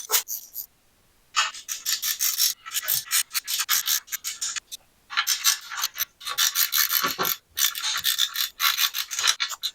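Ratcheting a 13 mm socket to tighten the bolts on a Sherpa Equipment Co PAK rack system, close and loud, in repeated bursts of raspy clicking separated by brief pauses.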